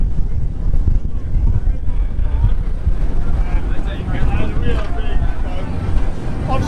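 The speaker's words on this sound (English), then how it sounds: "A bit windy on this side." Steady wind buffets the microphone with low rumbling gusts on the Sydney to Manly ferry, mixed with faint water and boat noise throughout.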